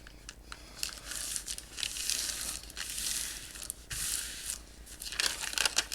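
Paper folded and creased into an envelope by hand, giving continuous close crinkling and rustling with brief sharper crackles, moderately loud and without speech.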